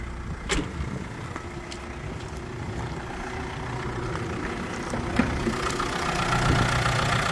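Renault Master L2H van engine idling under the open bonnet, a steady low diesel-like rumble with faint mechanical ticking, constant and fairly close, with no talk.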